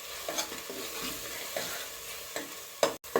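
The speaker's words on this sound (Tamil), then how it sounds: "இப்போ நம்ம இதை கொஞ்சம் வதக்கியாச்சு இஞ்சி பூண்டு பேஸ்ட்டு." Ginger garlic paste sautéed and stirred in a pot, with a steady close sizzle broken by repeated scraping strokes of the spoon and a sharper clatter near the end; no one speaks.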